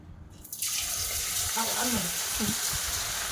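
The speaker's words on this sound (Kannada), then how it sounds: "ಸೊ ಕಲಸಿರೋಂಥ ಗೋಬಿನ ಹಾಕೋಣ. ಹಾಕಿಯತ್ತೆ." Battered cauliflower pieces drop into hot oil in a home kitchen, setting off a steady, close hissing sizzle that rises sharply and continues unbroken, with soft bubbling crackles on top.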